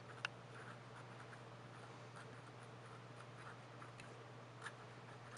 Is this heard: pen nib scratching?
yes